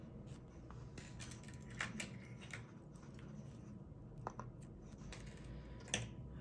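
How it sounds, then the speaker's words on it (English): Scissors snipping through crochet yarn, a few soft close cuts and crisp clicks over a steady low background hum, no talking. "And then I will cut the yarn."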